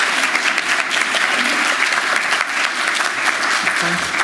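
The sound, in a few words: applause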